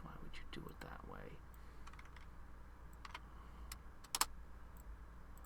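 Keystrokes clatter on a computer keyboard in short irregular bursts, close and fairly quiet, with a couple of sharper clicks near the end over a low steady hum.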